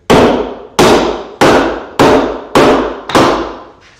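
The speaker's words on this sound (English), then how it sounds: "at some point I'm just going to try the chisel." A chisel is struck repeatedly with a mallet while cutting through a timber rafter, six loud, sharp, evenly spaced impacts about two-thirds of a second apart, each ringing out briefly.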